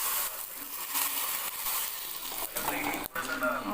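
Spiced tempering (tadka), browned in hot oil, poured into tomato rasam gives a loud, steady sizzle and crackle for a few seconds, with a brief dip near the end.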